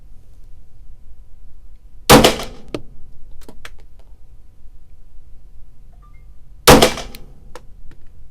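Two sharp, loud pistol shots from a Stoeger STR9 SC sub-compact 9mm at an indoor range, several seconds apart, each followed by brief ringing echoes and small clinks against a quiet background.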